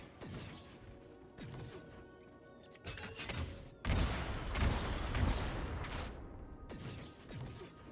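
Havoc Orb skill fired in a video game, a run of crashing, smashing impacts with mechanical clatter that swells into a loud, dense burst of destruction before easing off.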